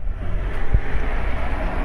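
Strong wind roars across the microphone in a constant low rumble, with a brief thump partway through.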